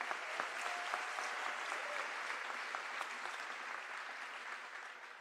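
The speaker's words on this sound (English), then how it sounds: "So let's give those students a round of applause." A high school graduation crowd gives seniors a round of applause: sustained clapping from many people, fairly distant and even, slowly fading toward the end without any speech over it.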